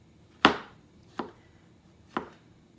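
A knife chops shiitake mushrooms on a cutting board with three crisp, evenly spaced thuds, close and distinct against a quiet background.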